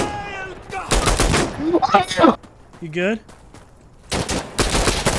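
Sharp bursts of gunfire from Insurgency: Sandstorm survival mode, some in rapid clusters, mixed with close voices talking and shouting.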